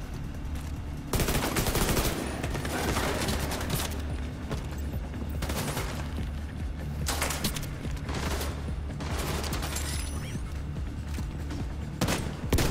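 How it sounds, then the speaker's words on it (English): Gunfire in the shooter The Division 2 inside a research lab: clusters of rapid shots and bursts pop repeatedly over a constant low rumble, loud and fairly close, with brief pauses between volleys. "Oh, somebody's shooting."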